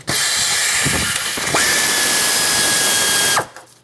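A power tool drives 12mm tensioner bolts on a 1995-2004 Toyota Tacoma, giving a loud, close, steady high whir in two long bursts with a brief pause between, then stopping.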